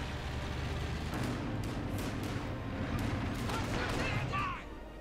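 Gunfire from a Company of Heroes 2 match, including a Puma armored car firing: bursts of shots and distant booms crackle over a continuous battle din, with a commentator talking over it.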